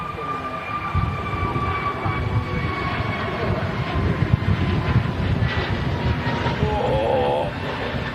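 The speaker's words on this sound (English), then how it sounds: "Another departure on the roll. Pegasus A321neo." Pegasus Airbus A321neo jet on its takeoff roll, a steady distant engine roar and whine building gradually, heard from afar with faint talk nearby.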